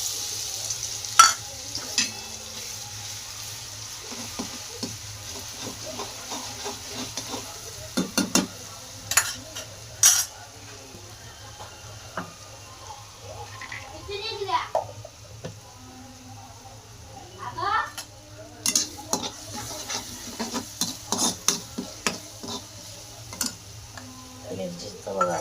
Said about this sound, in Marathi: आता आपण मिरचीचा ठेसा तळून घेऊ.